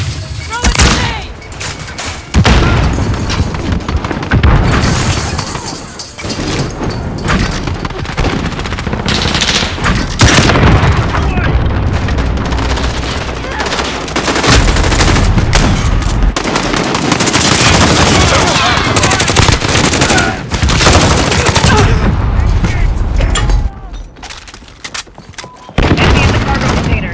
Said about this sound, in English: Grenade out! Throw a grenade!